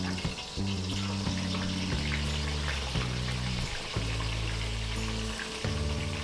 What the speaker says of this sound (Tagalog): Diretso na natin dito sa ating mantika.